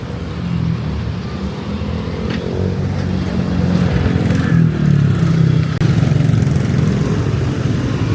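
Heavy road traffic of cars and motorcycles in Mabalacat City, heard from the roadside as a loud, continuous roar of engines passing close, with surging motorbike revs and no talk.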